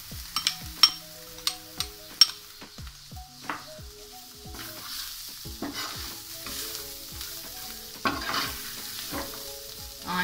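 Boiled chicken goes into a hot pan and is stir-fried, giving a steady sizzle broken by sharp scrapes and clacks of a spoon against the pan, loudest early on and then settling into continuous frying.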